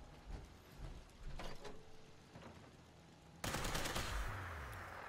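A plasma pistol in Fallout 76 fires in a few scattered, muffled bursts, then a sudden loud crackling blast near the end followed by a sustained rumbling tail.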